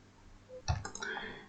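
A single sharp computer mouse click close up, with a small follow-up rattle, heard during a software installation walkthrough.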